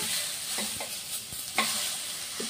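Tomatoes cook in a pan for ridge gourd peel chutney, giving a soft, steady sizzle with a few light stirring scrapes and taps, close and fairly quiet.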